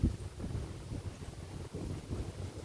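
Wind gusts outdoors rumble and buffet the microphone in uneven surges, with a steady low roar and no voices.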